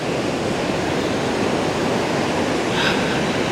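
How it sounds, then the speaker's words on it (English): A constant roar of rough ocean surf at Patnem Beach in South Goa fills the scene, broad and unbroken, with no voices. "except the waves now are quite rough"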